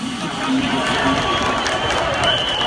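Rally crowd of political supporters in Karşıyaka applauds in protest, a dense sustained clapping and cheering over a mixed background of voices.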